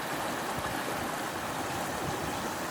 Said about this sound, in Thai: โอ้น้ำใสไหลแรงครับ